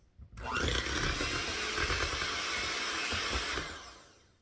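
A KitchenAid stand mixer whirs steadily as it blends dry ingredients into wet brownie batter in a tall bowl. The loud, close motor drone starts abruptly, holds for about three seconds, then winds down, with no talking.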